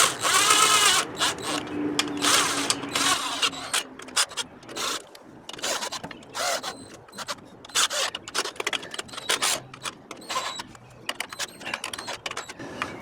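A ratchet lightly runs bolts into a seized Kohler Courage engine on a Craftsman LT2000 mower, giving close, rapid clicking bursts with short pauses between strokes.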